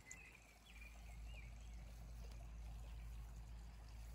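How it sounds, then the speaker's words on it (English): Soft, steady trickling water from a fountain in a cottage garden in the background, with faint birdsong chirps and a low outdoor rumble. "hear the water in the background from the fountain"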